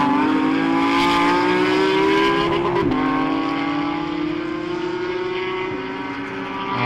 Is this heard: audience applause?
no